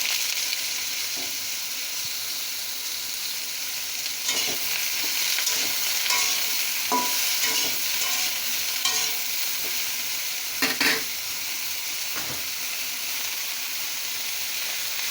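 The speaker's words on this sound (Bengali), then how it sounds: "এখন যে তুরুলগুলো আমি কেটে ধুয়ে পরিষ্কার করে রেখে দিয়েছিলাম ওগুলো দিয়ে দেবো তেলের মধ্যে" Ridge gourd pieces, washed and cut, sizzle steadily in hot oil in a pan, with a constant bright hiss and a few sharper clinks and scrapes of stirring. No one speaks.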